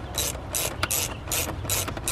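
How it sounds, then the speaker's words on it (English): A ratchet tightens the charge pipe clamps on a BMW 335i, giving bursts of rapid close clicking in several strokes with short pauses between them, loud and alone with no talk. "we're gonna start tightening these clamps."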